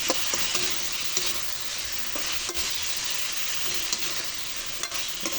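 Vegetables and chicken breast with oyster sauce sizzle steadily in a hot pan, with a utensil stirring and scraping in irregular, fairly close strokes and no talking.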